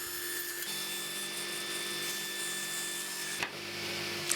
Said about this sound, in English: the saw blade to 18 degrees and run everything through on both edges